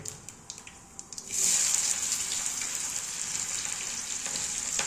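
Onions and chillies hit hot oil in a home kitchen, bursting into a loud, steady sizzle after a second of quieter clatter, then crackling on continuously close by.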